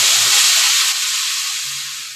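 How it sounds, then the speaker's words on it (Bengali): A boiled tomato, garlic and dried chili paste hitting a hot wok, a loud, close burst of hissing sizzle that gradually fades over about two seconds, with no talking. "তো সেই পেস্টটা দিয়ে দিচ্ছি কড়াইয়ে।"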